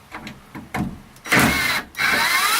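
A power drill at lower speed driving screws into van cabinet wood, several short bursts of whirring followed by two longer, louder runs with a brief pause between, close by.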